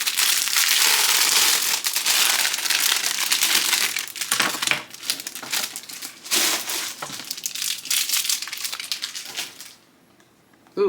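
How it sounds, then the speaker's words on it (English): Plastic packaging around a set of makeup brushes crinkles and crunches loudly and close by as it is handled and torn open, in uneven bursts that fade to near quiet at the end. "Lots of plastic."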